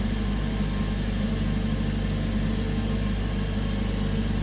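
A Mercedes A45s engine idles after starting, a steady low drone with a constant broadband hum and no variation in pitch or level, heard alone.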